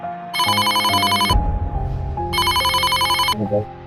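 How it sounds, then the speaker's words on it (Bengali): A telephone rings in a cartoon with two bursts of bright electronic trilling, separated by a pause, over a soft music bed. "এমন সময় মামা ফোন করলো"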